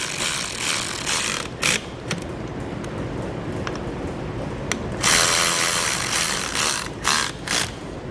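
A 7/32 Allen wrench tightens panhead screws on Air Lift LoadLifter 5000 air helper springs on a 2015 Chevrolet, making close, steady mechanical clicking and scraping with a few sharper metallic knocks.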